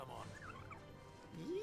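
A chocobo-style bird mount in Final Fantasy XVI calling out with short warbling, gobbling squawks, a brief rising cry at the end, fairly close but quiet beneath a soft background.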